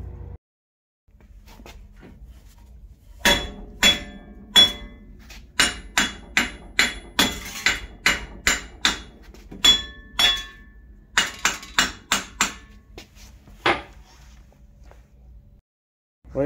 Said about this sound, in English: I just have to use a hammer and hit it on the corners.